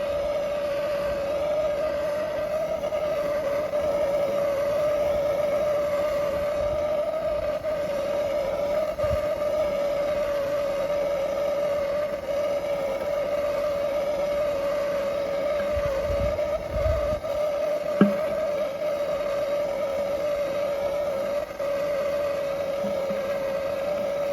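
A diesel walk-behind tractor engine runs steadily at high revs, driving a screw oil press; a continuous loud drone with a strong steady tone holds throughout, with a brief knock near the end and no talk.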